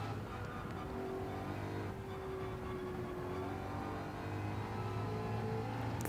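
A Ford Mustang race car in a racing video game laps Spa. Its engine holds a steady, fairly faint drone with gently shifting pitch as it pulls along a straight.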